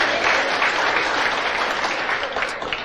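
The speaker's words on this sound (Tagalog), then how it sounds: "Palakpak kini Jesus." A church congregation claps in dense, steady applause during an Ilocano-language sermon, loud and close, tapering off slightly toward the end with no talking.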